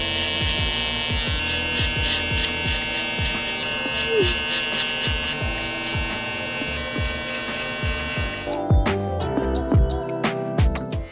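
Gamma Cyborg cordless hair clipper buzzing steadily as it cuts and blends hair during a barber fade, a continuous electric whine with brief pauses and clicks near the end, no talk over it.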